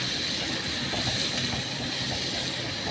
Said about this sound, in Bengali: গ্যাসটা কমিয়ে পেঁয়াজ দিয়ে, পেঁয়াজের সাথে এবারে এই ফোড়নগুলো দিয়ে এবার ভাজাভাজি করব।